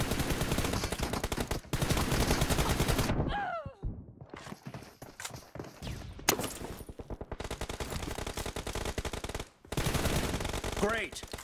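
Rapid automatic gunfire from the mobile game BGMI bursts loudly in long rattling volleys, pausing briefly between bursts, with ricochet-like whines and scattered single shots.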